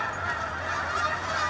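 Canada geese honking steadily through the whole stretch, a continuous chorus of calls from a flock, moderately loud with no talk over it.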